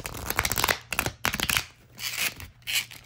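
A thick new oracle deck of cat-themed cards is shuffled by hand, giving several quick papery riffling bursts separated by short pauses, close and fairly loud with no talking.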